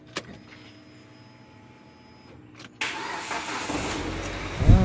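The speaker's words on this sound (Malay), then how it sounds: "Okey, nampaknya enjin sudah hidup." A car engine cranks and catches after a jump-start from a Kancil with a weak battery: quiet electrical hum first, then an abrupt start settling into a close, steady idle.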